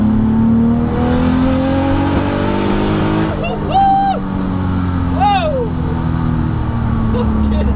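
A 1251bhp six-speed MKIV Toyota Supra rumbles and revs nearby on a hot day, its engine note rising and falling loudly, with people talking and exclaiming over it.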